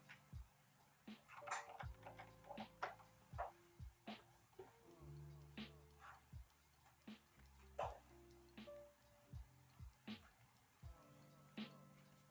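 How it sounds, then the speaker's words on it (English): A pet dog moves around in a quiet room behind an art stream, making scattered soft taps, clicks and brief scuffles at irregular intervals, faint and close by, with no talking. "You can probably hear my dog pittering around back here."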